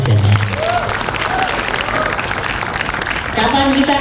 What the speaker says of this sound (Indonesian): Tepuk tangan untuk remajanya.